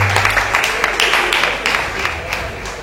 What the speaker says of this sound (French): prie d'applaudir s'il vous plaît, mesdames et messieurs.